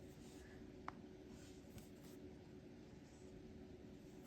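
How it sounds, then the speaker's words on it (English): A copper dip nib pen scratches across paper in soft, steady strokes, very faint and close, with one small tap partway through and no talking. "It is working really well on my copper dip nib."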